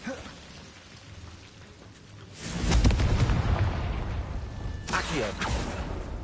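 A Confringo fire spell explodes in Hogwarts Legacy, a loud, sustained burst that erupts midway after a quieter rustling lead-in and rumbles on with crackling debris, a second flare following near the end.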